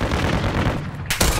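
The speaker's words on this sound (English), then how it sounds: "I'm getting shot from up the hill." Gunfire in Warzone 2 Resurgence on Ashika Island comes as a dense, continuous rattle of shots and booms, with a sharp loud burst near the end and no talk over it.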